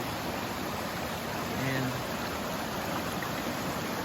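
Water pours over the top of a waterfall in the Appalachian mountains near Bear Creek, a broad continuous rushing roar heard close by, with a voice briefly faint beneath it.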